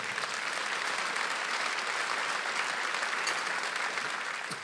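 A church congregation applauds during a sermon by Pastor Fernando Chaparro, a dense, steady wash of clapping that holds at an even level throughout.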